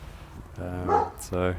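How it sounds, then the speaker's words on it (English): A dog barks twice nearby, short sharp yaps close together, while someone speaks outdoors among garden planters. "sorry, that's the dog's barking."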